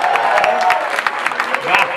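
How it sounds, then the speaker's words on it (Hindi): Audience applause at a live comedy show for someone named Prithviraj, a short burst of crowd clapping with scattered louder claps and a swell near the end, voices and chatter mixed in. "एक बार जोरदार ताली बजाए पृथ्वीराज के लिए यार"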